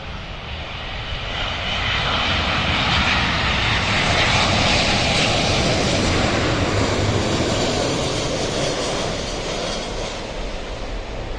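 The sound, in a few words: Saudi Airlines plane approaching to land at Dhaka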